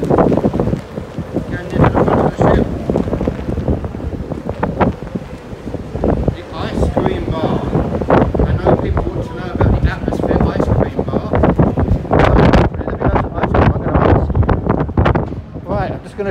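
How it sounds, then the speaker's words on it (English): Strong wind buffets the pool deck of the cruise ship MSC Virtuosa, a loud continuous roar with gusty surges pressing on the microphone throughout. "Listen to that wind."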